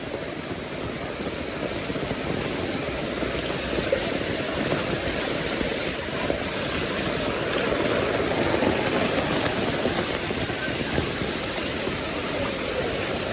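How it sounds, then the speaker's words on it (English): Heavy rain in a residential neighborhood in the Gambia, a continuous dense hiss of downpour on roofs and ground, steady and loud throughout with no talking. "It's raining a lot though. It's raining a lot."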